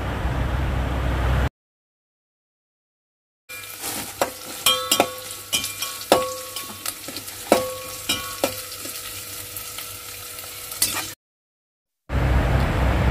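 Onion with ginger-garlic paste frying in a pan, a steady sizzle broken by sharp clinks and scrapes of stirring, framed by stretches of silence and a hissy background at the start and end.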